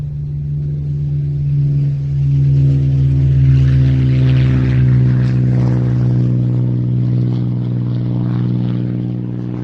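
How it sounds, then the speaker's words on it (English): Newly restored Spitfire Mark 9 taking off at an air show: a loud, steady propeller engine drone that swells slightly and holds strong throughout, near and continuous with no talking. "the Spitfire that's going to follow it into the air"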